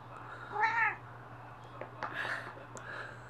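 A cat gives a clear, close meow, then several softer, broken meows follow over a low steady hum.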